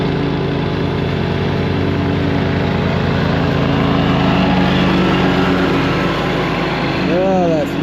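A lawn mower cuts grass on a farm, its engine droning loud and steady without a break throughout.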